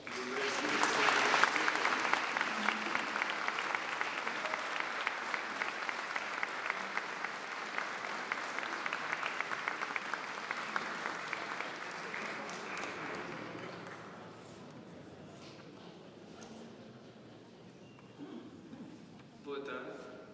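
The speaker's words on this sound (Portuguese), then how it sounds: "peço uma salva de palmas" Audience applause at a New Year's concert, a dense sustained clapping that builds loud for about twelve seconds, then thins to scattered claps and fades, with faint voices underneath.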